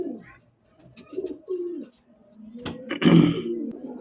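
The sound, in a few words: pigeons cooing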